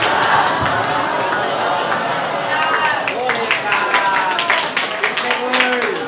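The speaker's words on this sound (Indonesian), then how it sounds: "Tepuk tangan untuk kita semua." An audience at a school orientation event claps and cheers loudly, a dense, continuous burst of applause that builds with scattered louder claps and whoops.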